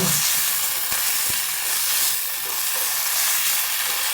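Adobo being stirred in a pot, made with vinegar and biryani rice, giving a steady broad sizzling hiss with a few soft scraping knocks throughout.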